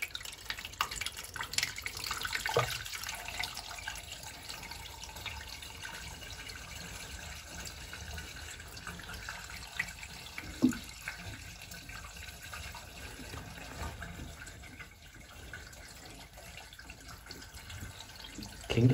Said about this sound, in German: Und das testen wir jetzt mal hier mit einer Gießkanne,